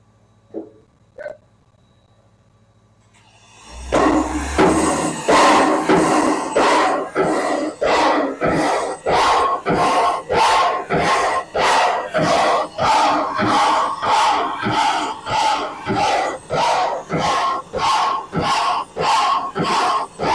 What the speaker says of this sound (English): This is the air compressor that makes all the air for 786's brakes, as well as the train behind it.